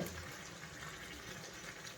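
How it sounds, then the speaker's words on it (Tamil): Water is poured over chicken yassa, a traditional Senegalese dish, in a cooking pot, making a faint, steady splashing rush that lasts the whole moment with no talking. "கொஞ்சமாக தண்ணி இது மேலே இப்படி ஊற்றி இதை வந்து இப்போ நம்ம வேக வைக்கணும்"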